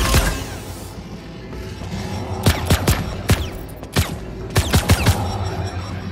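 Gunfire rings out in the PS4/PS5 horror game Organika, made in Dreams, as a series of sharp, loud shots in quick clusters over a dense, rumbling background.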